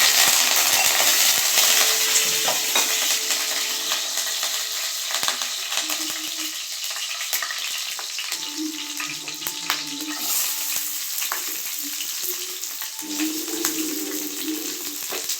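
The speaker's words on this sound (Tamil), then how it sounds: "ஆயில் நல்லா வெந்தயம் போட்டுக்குவோம், கருவேப்பிலை போட்டுக்கலாம்." Fenugreek seeds and curry leaves fry in hot oil for a gourd and dried-fish curry, giving a steady, loud sizzle with crackles and occasional stirring clatter throughout.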